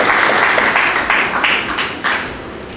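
An audience at a theology school graduation ceremony applauds a graduate, a thick burst of clapping that swells in waves and gradually thins out.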